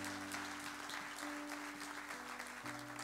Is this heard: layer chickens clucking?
no